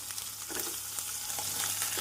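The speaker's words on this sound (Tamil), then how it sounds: "நாம் இஞ்சி பூண்டு விழுது சேர்த்த பின் நறுக்கிய வெங்காயத்தை சேர்த்து விடுவோம்" Steady, hissing sizzle of chopped onion frying in hot oil after ginger-garlic paste, with faint stirring scrapes and a low hum underneath.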